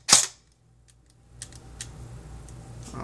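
A foam dart blaster fitted with a Nano Nukefet trigger fires a single sharp semi-automatic shot, loud and close, followed by faint mechanical clicks and handling noise.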